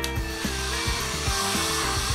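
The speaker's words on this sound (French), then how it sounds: "Ce sèche-cheveux fera le travail en un rien de temps." A hair dryer blows steadily to dry fresh paint, a constant loud airy whir with faint knocks or rubbing beneath it, close by and with no talk.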